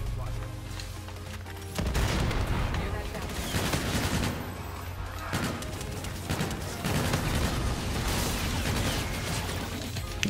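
MV4 gunfire in Call of Duty: Infinite Warfare on the Terminal map, with rapid bursts of loud automatic shots and sharp booms over game noise, starting quiet, then firing in repeated volleys near the player.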